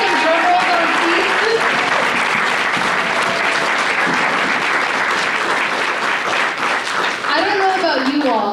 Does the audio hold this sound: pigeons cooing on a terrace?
no